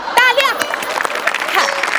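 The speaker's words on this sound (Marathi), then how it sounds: "अरुण कदमांना टाळ्या." An audience claps for comedian Arun Kadam at a Marathi comedy show: a brief, steady burst of applause lasting about two seconds, heard under a talking voice.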